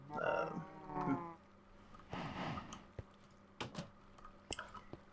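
Cows on a video game farm in SouthCraft give a drawn-out moo near the start, followed by quieter shuffling and scattered sharp keyboard clicks.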